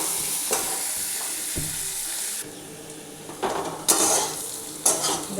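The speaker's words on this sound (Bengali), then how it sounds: "পেঁয়াজটা একটু লালচে করে ভাজবো।" Onions frying in a pan for a potol fish curry, a steady bright sizzle broken by occasional scraping stirs and utensil knocks against the pan, close and without talk.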